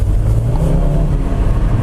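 A 2017 Fiat 124 Spyder with an automatic gearbox and a 1.4 liter turbocharged engine drones steadily and loudly from inside the car as it accelerates on the road, with no talking.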